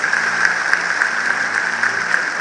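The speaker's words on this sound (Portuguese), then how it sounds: "Dê um aplauso ao Senhor." Steady applause from a church congregation, continuous clapping with a few sharper claps standing out, filling the whole stretch at even loudness.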